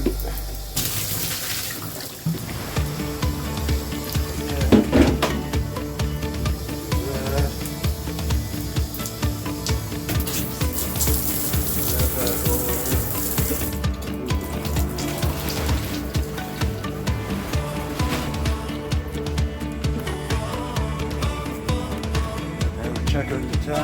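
Water runs and splashes steadily during a water change and gravel vacuuming of a 10-gallon Top Fin aquarium, a continuous gushing flow with brief clunks and a voice talking over it.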